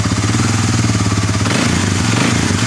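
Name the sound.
ATV engine exhaust backfiring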